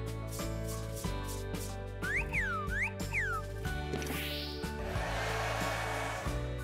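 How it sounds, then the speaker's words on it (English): A toy-sized blow dryer for humans runs with a constant, loud whirring drone. Sweeping whistle-like effects and a later hissy burst sit on top of it. "But this is a blow dryer for humans."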